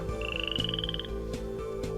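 A common frog (rana bermeja) croaks in the Muniellos natural reserve. Rhythmic croaks pulse steadily and fairly close, alongside a thin, rising chirp and a quiet outdoor background.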